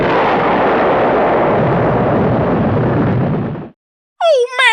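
A divine blast from ActRaiser on the SNES roars through a monster's lair, a loud sustained explosive rumble lasting several seconds before cutting to silence, followed by a short chiptune jingle.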